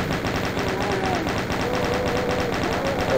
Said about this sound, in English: just going to switch over to the chain gun